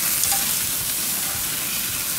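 Shrimp and chicken teriyaki sizzle on a grill with a loud, steady, close hiss that holds throughout, without pause or speech.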